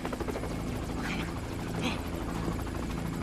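Helicopter in GTA Online at the Diamond Casino & Resort, a steady whirring rotor drone with pulsing chop, loud and continuous under voices talking.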